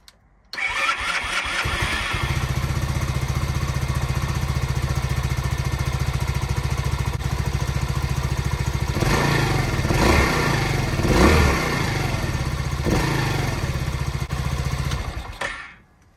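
A Skyteam Skymax motorcycle engine cranks and starts after an oil change, then idles steadily and loudly, revs briefly a few times, and shuts off at the end.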